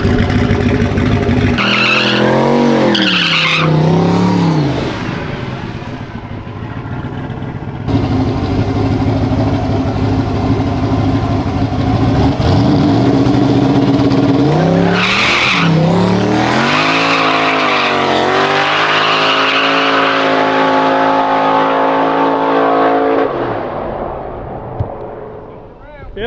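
A race truck's engine revs hard at a drag-style launch on a tricky Mississippi track, its tires spinning and squealing as the pitch rises and falls through gear changes, loud and close for a long sustained pull.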